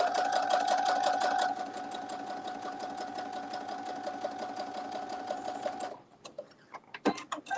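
A sewing machine stitching a quilt block, run by foot pedal inside a motorhome: a fast, steady mechanical whirr and needle chatter up close, slowing and stopping near the end, followed by a few handling clicks.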